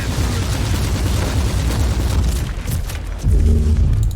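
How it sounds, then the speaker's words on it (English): Grenade blast in the Warhammer 40,000: Inquisitor - Martyr video game, a loud, dense rumbling explosion with a sharp booming surge near the end. "I wanted to throw out a grenade"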